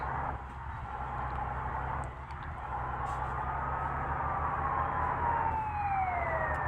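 A wailing ambulance siren in an Indian bus simulator video game, rising and falling over a low steady engine drone, moderately quiet and continuous with a long sweeping tone toward the end.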